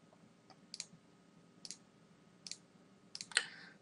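Computer mouse clicks while tracing an elevation line in drafting software, about five quiet, close, sharp clicks spaced roughly a second apart, the last a quick double, over a faint hum.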